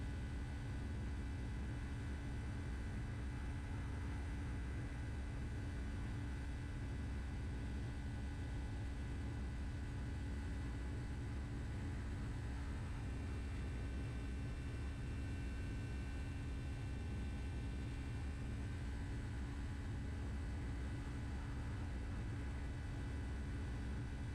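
A Boeing 757 taxiing toward the runway gives off a steady, even jet-engine hum and broadband rumble that holds constant throughout, heard from inside the aircraft with no talk.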